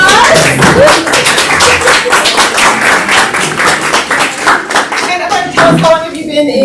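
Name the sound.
round of applause at team meeting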